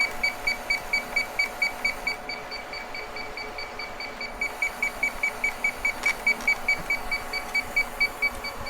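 Inficon D-Tek Stratus refrigerant leak detector checking a Daikin mini-split evaporator coil, emitting rapid, evenly pulsed high electronic beeps that pause briefly and then resume faster, over a steady background hum.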